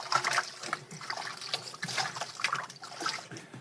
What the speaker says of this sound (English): I have them in a large bowl, as you saw, and I'm just rinsing them